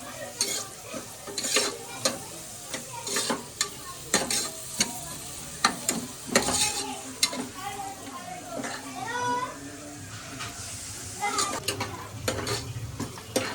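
Onions for dal khichdi are stirred and fried in a pan: a steady sizzle with repeated close spoon scrapes and knocks at an irregular rhythm, with a faint voice in the background at times.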